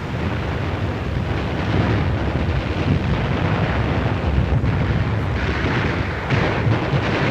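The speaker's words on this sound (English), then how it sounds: "When this ammunition dump blew up, it shook the whole island." An ammunition dump blowing up on a Pacific island in 1944 wartime footage, a dense continuous roar and rumble of blasts with noisy, distorted film sound throughout.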